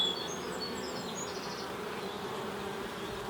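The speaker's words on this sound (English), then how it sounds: "There's the bees come in with all the pollen." Honey bees at a hive frame, some arriving with pollen, make a dense, steady buzzing hum that stays close and even throughout.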